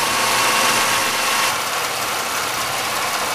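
A GM 3100 V6 engine idling on a cold start with piston slap, a loud, steady close-up drone with a faint knocking vibration running throughout, no talk.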